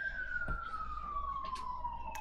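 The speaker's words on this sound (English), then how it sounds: "Siren time. It's siren time." A wailing emergency siren sweeps slowly downward as a steady tone, heard alone at moderate level with a few brief background bumps.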